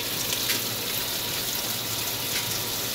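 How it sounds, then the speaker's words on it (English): Water gushes steadily into a Maytag washing machine, a continuous loud close rushing and splashing with no pauses or talk. "water works like it's supposed to."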